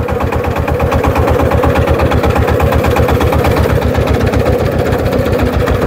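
A vehicle engine drones loud and steady at close range with a rapid regular throb while the vehicle runs along a rough off-road track through banana plants, alone and without talk.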